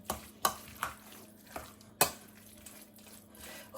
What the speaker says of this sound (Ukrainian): Добре, добре так перемішуємо.